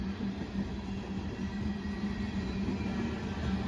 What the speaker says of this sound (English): Usually these coal hauler trains are normally very, very long.